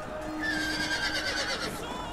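A horse whinnies in a battle scene from the Lord of the Rings Rise of Mordor mod for Total War, a shrill rising and falling neigh over a dense din of combat.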